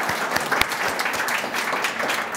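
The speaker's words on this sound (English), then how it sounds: "We don't normally have applause, but we'll make an exception for." Applause from the audience at a city executive committee meeting, a steady wash of clapping that holds for the whole stretch without talk over it.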